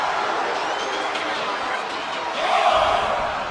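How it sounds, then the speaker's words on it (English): Raucous crowd at a Summer Slam 2024 wrestling arena, a sustained roar of cheering and shouting that swells louder toward the end, with commentary voices mixed underneath. "What a raucous crowd here tonight."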